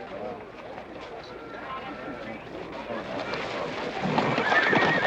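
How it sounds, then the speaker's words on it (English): Horse hooves clip-clop under a busy mix of voices and crowd noise, with a whinny rising near the end; fairly distant and muddy. "That Agamemnon's a good horse"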